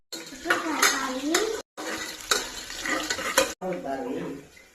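Onions, cumin and green chillies are stirred in a cooking pot, with a spoon scraping and clinking in repeated strokes and gentle sizzling, and a voice talking over it.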